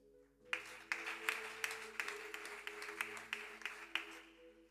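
A church congregation claps along in steady rhythm, each clap a quiet, crisp burst, carried over sustained music in the background.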